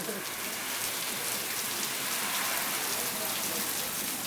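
Steady rain pours outside, a dense, even hiss of drops on surfaces that stays loud and constant throughout with no pauses.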